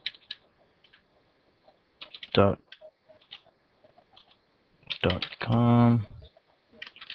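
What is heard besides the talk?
typing text on a computer keyboard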